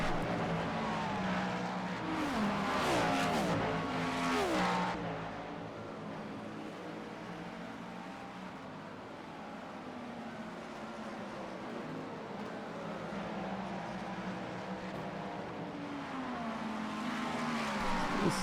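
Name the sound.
race car engines in a sprint car racing video game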